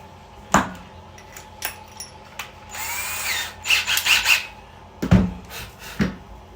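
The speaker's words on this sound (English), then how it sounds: "This Ryobi drill has been a good one, but it's seen its better days" An old, worn Ryobi power drill bursts in short spurts inside a trailer, whirring and revving up and down with a few knocks and clunks between them, close and fairly loud.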